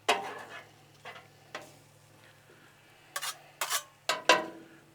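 Chicken stir fry cooking on a Blackstone griddle turned down to low heat, a faint steady sizzle under a few sharp metallic spatula scrapes and clinks that cluster toward the end, close by, with no voices.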